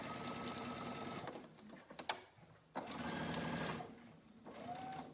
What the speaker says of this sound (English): I'll re-sew this bottom part here.